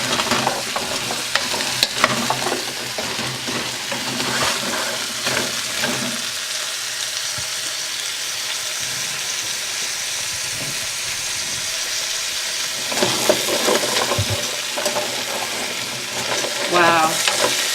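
Stirring a couple pounds of carrots for a big pot of ginger carrot soup: steady frying sizzle and hiss throughout, with scraping and clacking of the spoon in the pot at the start and again near the end, no talking.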